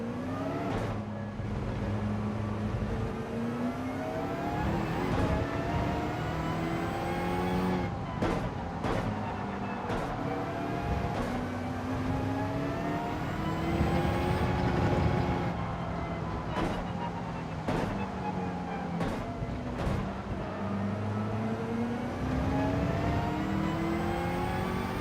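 A race car in a racing video game laps the Fuji circuit, its engine revving up and down through gear changes and braking, loud and continuous with sharp shift transients throughout.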